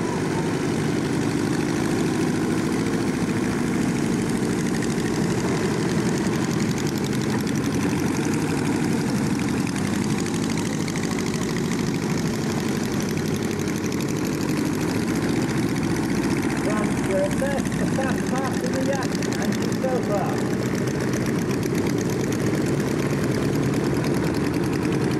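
Motorcycle engines idle at a 2007 airshow at Little Gransden, a steady low drone and rumble running for the full stretch, with a commentator's voice talking over it throughout.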